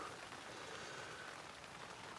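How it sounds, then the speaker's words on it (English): Soft, even patter of rain drumming on a taut fabric surface, a quiet continuous hiss with no voices. "This will be my first time packing up my tent in the rain"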